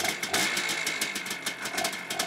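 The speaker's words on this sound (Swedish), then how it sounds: "Huskvarna 250, den kallas MC 258 inom försvaret." A Husqvarna 250 military motorcycle with an automatic gearbox idles nearby, its engine running steadily with a rough, pulsing beat.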